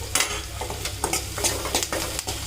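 Sliced onion and curry leaves frying in a pan for a pumpkin tamarind curry, a close hissing sizzle broken by quick scraping stirs of the spatula, no one speaking.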